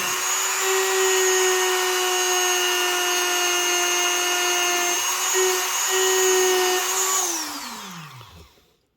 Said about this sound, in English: I think this wire brush is not scratching the blade